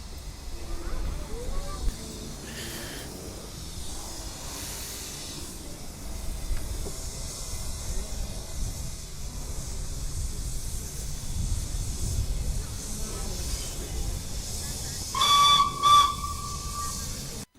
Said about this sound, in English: the trains broke through the barrier now and pulling into the station